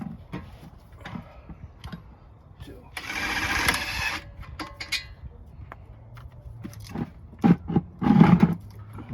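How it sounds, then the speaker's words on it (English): A weak impact gun hammers at a 21 mm brake caliper bracket bolt on a Jeep Grand Cherokee, a loud, close, rattling burst of about a second amid clanks of tools, with people talking around it. "My impact gun is not too strong. That's why we had to break it loose first."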